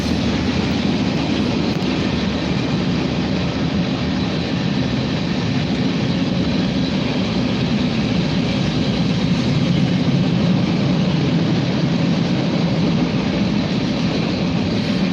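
A Norfolk Southern freight train rolls steadily past at Beaver Falls, Pennsylvania, led by an SD70 locomotive, its loud continuous rumble and wheel noise filling the scene without pause.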